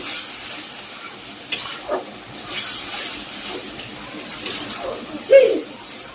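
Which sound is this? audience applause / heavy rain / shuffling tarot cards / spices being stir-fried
spices being stir-fried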